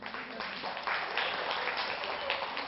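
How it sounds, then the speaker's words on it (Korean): Indoor audience of parents at a lecture on career education and software coding, clapping steadily in a soft, continuous patter that lasts the whole stretch, moderately distant. "박수 한번 주세요"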